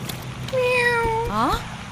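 A cat gives one clear, drawn-out meow followed by a second rising cry, close and distinct over faint background noise.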